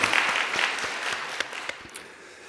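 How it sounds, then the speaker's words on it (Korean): Church congregation applauding the praise team during a Sunday worship service, a steady mass of clapping with a few sharper individual claps standing out, fairly close and sustained throughout. "우리 찬양팀 수고하신 모든 분들 다시 한번 박수 한번 드리도록 하겠습니다."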